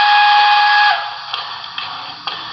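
A shrill, single-chime PRR Banshee steam whistle on a Broadway Limited Imports Paragon 3 PRR L1s Mikado model locomotive blows steadily for about a second, then cuts off, leaving faint mechanical clicks and hiss.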